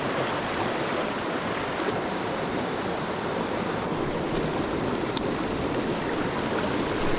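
A small mountain creek runs at sunset with a dense, steady rush of flowing water, close and continuous with no breaks.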